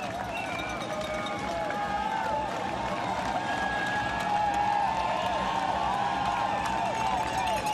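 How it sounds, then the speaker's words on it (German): Spectators packed at the Berlin Marathon finish near Pariser Platz applaud and cheer in a continuous, building roar of clapping and crowd noise, with a commentator speaking over it. "Applaus nimmt natürlich zu."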